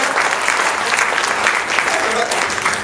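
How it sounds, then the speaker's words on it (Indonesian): Dense, steady applause from a crowd of women at a Prabowo Subianto political speech, loud and continuous throughout with no voice rising above it. "Tepuk tangan dulu dong ibu-ibu, kasih semangat."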